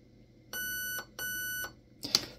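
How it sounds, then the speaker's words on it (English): Two even electronic beeps from a Raven Evolution Furion ETU paintball marker board being programmed, each about half a second long with a short gap, followed by a brief mechanical click or clatter. "Those two beeps means that it is now programmed to binary."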